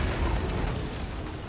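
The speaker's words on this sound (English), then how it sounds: "the reinforcements are being shot at by my Hell Cannons" Hell Cannons in the fantasy battle game Total War Warhammer 2 fire with a deep, rumbling boom that swells early and rolls on steadily through a dense battlefield din.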